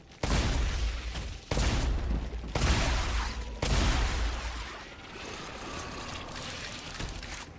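Shotgun blasts in the video game StarRupture: four loud, heavy booms spaced about a second apart, followed by a quieter rumbling tail.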